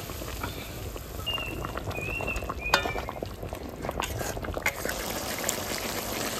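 Katla fish simmering in hot spiced oil in a pan, a steady close bubbling and sizzling with small pops and clicks, no talking.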